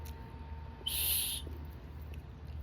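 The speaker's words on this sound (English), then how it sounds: "I custom ordered a whistle" A single shrill, steady blast from a 3D-printed plastic whistle lasting about half a second, loud over a quiet room hum.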